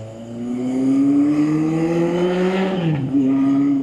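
A restomod Honda CB750 motorcycle engine revs up with rising pitch, drops briefly as it shifts gear, then pulls again, loud and close.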